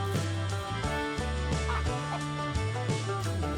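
Farm chickens cluck in the ranch-life video game Ranch Simulator, short clucks scattered over steady, loud background game music.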